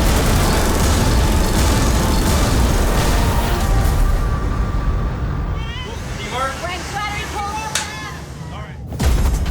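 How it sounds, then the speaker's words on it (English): A ballistic missile launches from a naval destroyer as a dramatized TV effect, a loud sustained roaring rush that gradually fades, with a voice over the start. "TAO, ballistic missile fire! Fire!"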